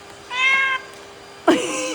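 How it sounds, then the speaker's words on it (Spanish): A recorded cat meow plays through a phone speaker as one drawn-out mew. A second, harsher meow-like call follows shortly after. Neither is accompanied by talking. "Este es el sonido que hacen los gatos."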